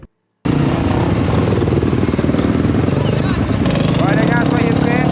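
A 250 motorcycle engine runs steadily and loud from close by after a brief silence at the start, holding a continuous rough drone with slight pitch shifts as the bike gets under way.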